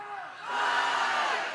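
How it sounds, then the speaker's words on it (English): A softball crowd at a Clemson versus Texas super regional game erupts into loud cheering and whoops, swelling after a brief lull and holding strong. "And the crowd is fired up."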